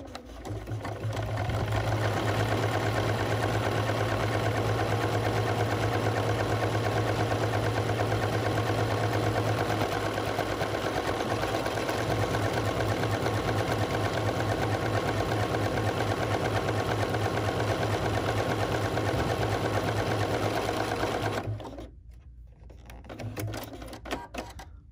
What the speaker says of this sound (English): I'm stitching a 22 millimeter buttonhole and it's number 51.